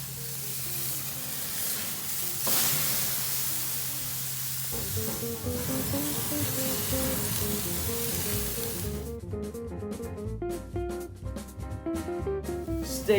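Steak sizzling on a hot grill, searing with cross grill marks: a loud, steady close hiss fills the first seconds, then music rises over a fainter continuing sizzle.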